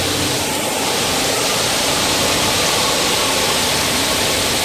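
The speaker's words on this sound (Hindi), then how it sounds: "और ये है पंप" A water pump running in a potato cold storage plant gives a loud, steady, rushing noise that stays constant throughout, close by and with no talk.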